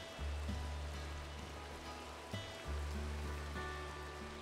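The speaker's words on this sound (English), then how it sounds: "Ugh, rain." Steady rain in Minecraft (ATM10 modpack) makes a continuous, even hiss with no breaks. A low synthetic background tone sits beneath it, and no one speaks.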